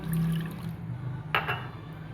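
Milk pours steadily into a metal pot, a low gurgling fill with a brief clink partway through.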